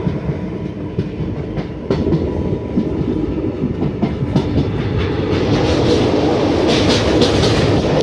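A train runs along the railway near Almatti and crosses a railway bridge, its steady rumble and rhythmic clickety-clack of wheels growing louder and fuller partway through.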